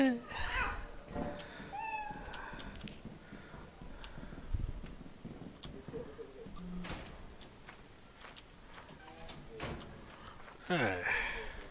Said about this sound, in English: Heard another cat.